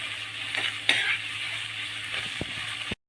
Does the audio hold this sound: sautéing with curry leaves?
yes